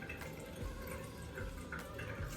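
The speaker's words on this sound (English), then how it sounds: "I'm just putting some water around my face" Hands splash water onto a face at a sink during a skincare cleansing routine, with soft close dripping and trickling sounds that run steadily through the moment.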